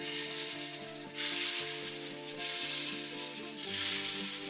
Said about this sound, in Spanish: vamos a comenzar a freír nuestras tortitas